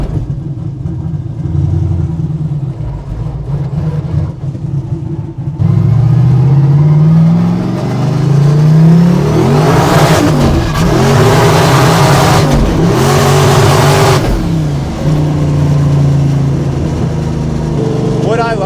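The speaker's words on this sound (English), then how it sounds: "So when I drive this faceplated 4-speed around, there's zero question that this is a manual transmission." A car fitted with a faceplated 4-speed manual transmission, set up for stick shift drag racing, drives and revs loudly, its engine climbing and dropping through gear changes in steady, close, continuous roar.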